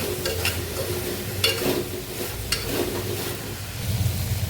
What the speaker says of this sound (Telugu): ముందు మనం కొంచెం సాల్ట్ వేసుకుని బాగా మిక్స్